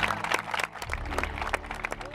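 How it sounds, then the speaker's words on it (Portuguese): A burst of applause from a crowd, dense overlapping claps continuing throughout with some murmuring voices. "Uma salva de palmas"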